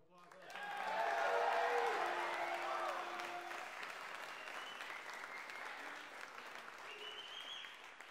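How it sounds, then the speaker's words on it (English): Audience applause at a saxophone faculty recital, a dense wash of clapping that swells quickly and then holds steady at a moderate level, with some talk and faint tones running through it. "If you could just please give Jesus Ibarra a round of applause."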